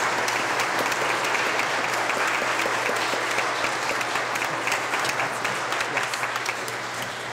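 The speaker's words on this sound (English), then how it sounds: "it's only fitting that we give her a round of applause and thanks" A church congregation at a Lutheran service in Bucyrus, Ohio claps steadily for the whole stretch, a dense, even wash of hands that keeps a constant level throughout with no voices standing out.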